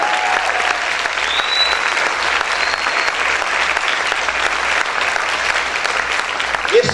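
A church congregation applauding loudly during a Spanish-language service, a sustained wash of dense clapping that holds steady for the full length with little variation.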